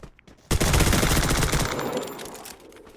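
A Vector submachine gun firing in Garena Free Fire, a loud sustained burst of rapid shots that fades out over about two seconds after a brief quiet start.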